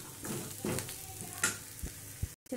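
Asafoetida, coriander powder, red chilli and turmeric fry in hot oil for potato kadhi, a short close sizzle with a few soft stirring scrapes and no talking.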